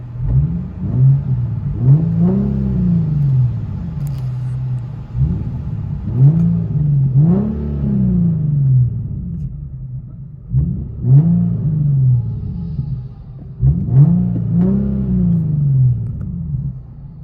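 Infiniti G37 with a 3.7L V6 and aftermarket exhaust, heard from inside the cabin as the engine is revved in four repeated swells, each rising to a deep rumbling peak and falling back to a steady idle drone.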